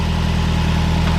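A Subaru WRX engine idles steadily while warming up, a close, even, throbbing drone that holds constant throughout.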